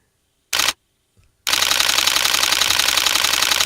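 An alarm that imitates a Nikon D4 camera shutter: one short burst, a pause, then a rapid continuous mechanical clatter of shutter-like clicks, loud and close.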